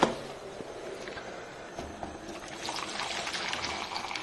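Water poured into a cooking pot with beans and salt, a continuous close splashing gush that grows a little fuller toward the end.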